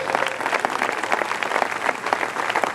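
A church congregation applauds and cheers for the Lord, a dense, continuous wash of clapping hands close and loud throughout, with no break.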